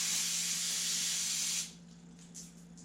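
Aerosol cleaner sprayed into a push mower carburetor with a stuck float: a loud, steady hiss for about a second and a half, then it cuts off into quiet with faint small clicks.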